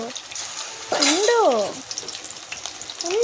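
Marinated chicken fries in hot oil in a pan with a steady, close sizzle and crackle, while a voice talks briefly over it partway through.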